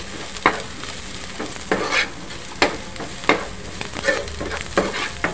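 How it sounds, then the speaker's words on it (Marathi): Onion and mild green chillies sauté in a pan for a street-style egg dish, a low sizzle broken by repeated spatula scrapes and clinks at an irregular pace, close up and without speech. "छानपैकी परतून घ्या"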